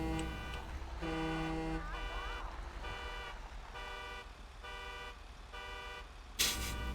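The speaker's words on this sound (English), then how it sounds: "What the hell's that guy beeping his horn like that?" Car horn in GTA V sounding in a repeated on-off pattern of steady harmonic blasts, about six beeps over several seconds, moderately loud over low engine and road rumble with a short burst of noise at the end.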